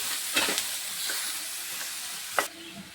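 Chutney ingredients with salt and turmeric fry in a pan, a steady close sizzle broken by a few scraping stirs, with no voices.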